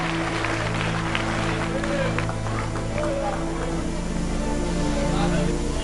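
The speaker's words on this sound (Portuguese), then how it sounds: "Os que podem, tomem o seu assento aplaudindo a Jesus" A church congregation claps for Jesus in a continuous wash of applause under a voice speaking over the crowd.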